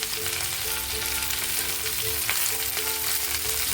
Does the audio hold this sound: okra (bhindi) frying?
yes